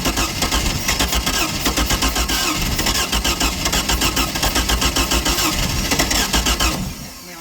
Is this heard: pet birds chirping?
no